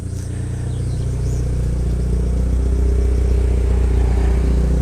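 A Mitsubishi Galant VR4 idles close by in a loud, even rumble, the engine note holding steady throughout.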